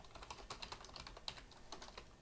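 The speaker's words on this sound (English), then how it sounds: "when I press a button on my keyboard" Fingers type on a computer keyboard, a soft, rapid run of light clicking keystrokes close by with no talking.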